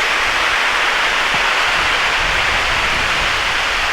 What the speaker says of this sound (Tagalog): Ngayon medyo malakas lang ang alon.